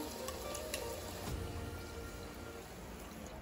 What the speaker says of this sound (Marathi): तर इथं आपल्याला कडाकणी दोन्ही बाजूनी तळून घ्यायची आहे।